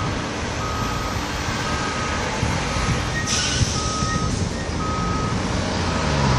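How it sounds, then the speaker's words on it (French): Truck at a port weighing platform, its reversing beeper repeating over a steady loud rumble of engines and machinery, with no talking. "Là, il y a un camion qui s'est posé sur la plateforme de pesage sans doute."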